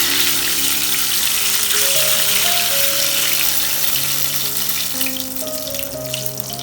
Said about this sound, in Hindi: सफ़ेद ज़ीरा डालेंगे, लौंग डालेंगे 4-5 और काली मिर्च थोड़ी सी डालेंगे, 5-6 पीस होंगे इसके। इसको हम 1-2 मिनट के लिए फ्राई करेंगे।